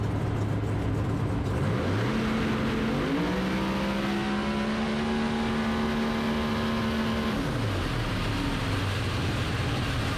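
Drag race car with a five-speed Liberty transmission and trans brake on a no-prep track, heard from inside as the engine climbs to a steady high drone, holds for several seconds, then drops off.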